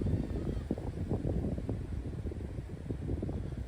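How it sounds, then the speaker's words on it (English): A gust of wind buffets an outdoor microphone at the waterside during a bream fishing session, a steady low rumble that swells and churns throughout without a break. "It's the actual gust that catches me out"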